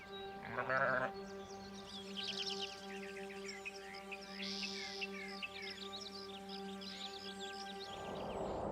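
A sheep in the Alaskan wilderness at extreme cold gives one clear bleat early on, followed by chirping bird calls over a steady low background hum.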